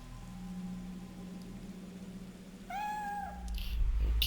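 A cat meows in the Fatal Frame III video game, a single clear drawn-out mew rising over a soft, steady rain-like background hiss.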